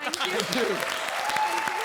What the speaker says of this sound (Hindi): तो उस बात पर जोरदार तालियां हो जाएं